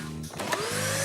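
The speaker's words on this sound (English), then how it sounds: "OK, take the vacuum cleaner." Vacuum cleaner drawing air out of a plastic space bag around a container of chocolate, a steady motor drone with a rising whine as the suction builds.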